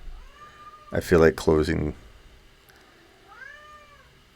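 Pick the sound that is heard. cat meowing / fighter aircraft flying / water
cat meowing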